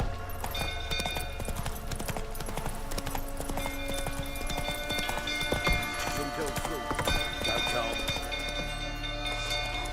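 A horse gallops in The Witcher video game, with rapid hoofbeats mixed into busy game sound, music and a voice talking.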